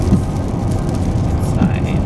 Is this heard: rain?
yes